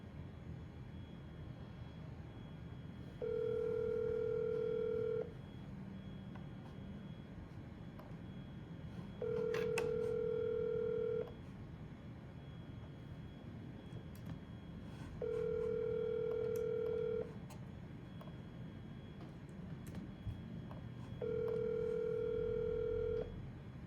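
A telephone tone after a voicemail greeting repeats as four evenly spaced steady beeps, each about two seconds long, over a faint background hiss.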